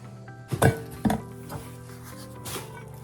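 Cookware being handled, with a few clanks and knocks of a metal milk pan and other pots in a quiet room, several distinct close hits spaced out over a low hum.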